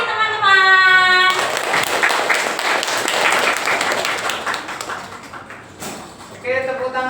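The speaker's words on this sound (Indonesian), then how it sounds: "tepuk tangan yang sekali lagi untuk Kak Naura Nadifa." Audience applause at a school stage festival, a dense wash of clapping that swells after a short voice and fades as a voice returns at the end.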